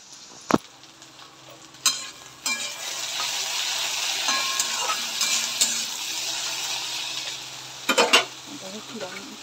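Bitter gourd frying in a pan gives a steady, moderate sizzle that holds through most of the stretch, with a few sharp clicks of utensils near the start and near the end.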